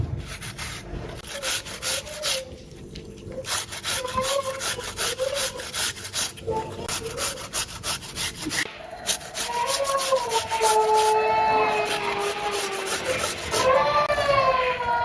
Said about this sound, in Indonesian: timun ini akan saya serut pakai serutan keju kayak gini